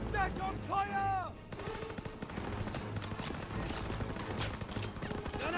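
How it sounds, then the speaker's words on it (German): Sustained machine gun covering fire in Call of Duty WWII, during a German-language story mission assault on a hill: a loud, steady stream of shots runs on, with a voice audible near the start. "Das MG weiter unter Druck setzen! Vorrücken! Los, los, los! Deckungsfeuer!"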